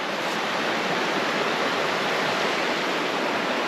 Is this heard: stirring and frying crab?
no